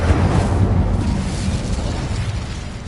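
A fiery Incendio spell cast in the Hogwarts Legacy video game, a loud, sustained roaring burst of flame that rumbles steadily for about three seconds with no talk over it.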